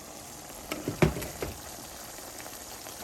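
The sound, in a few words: onions cooking in covered pot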